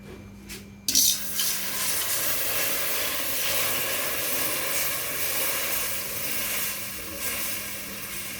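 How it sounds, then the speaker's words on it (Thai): Coconut milk simmers in a pot for curry, giving a steady close hiss and soft bubbling that follows a sharp clatter near the start and carries on evenly to the end. "เคี่ยวกะทิให้แตกมัน"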